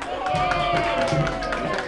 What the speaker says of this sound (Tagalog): Ang lakas ng palakpak.